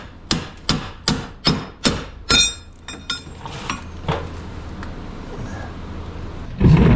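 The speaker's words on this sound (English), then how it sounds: "So I believe all that needs to happen is we need to smack this right here." A hammer smacks a minivan's lower control arm about six times in quick, ringing metallic blows, then a few lighter taps follow before scraping and handling noise.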